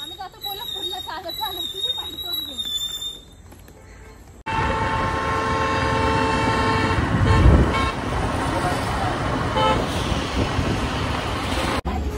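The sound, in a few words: vehicle sound and horn toot while driving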